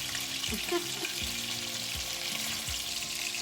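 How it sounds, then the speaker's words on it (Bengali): Muitha kebabs lightly frying in a pan, a soft steady sizzle with a few low thumps as pieces are moved or turned, quiet and close. "আমি জাস্ট হালকা করে কাবাবটা একটু ভেজে নিব জাস্ট এপিট ওপিট একটু ব্রাউন কালার করে নিব"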